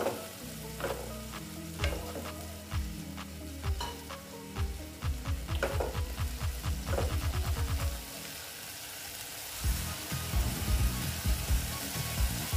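Poppy seed and mustard paste being stirred into vegetables frying in a pan, with rhythmic rapid scraping strokes over a constant sizzle that grows louder near the end, close and with no talking.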